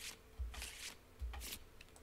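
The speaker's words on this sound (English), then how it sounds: "And then let's give each of these a shuffle." Decks of board game cards being shuffled, two quick riffling bursts a moment apart, close and quiet with no talking.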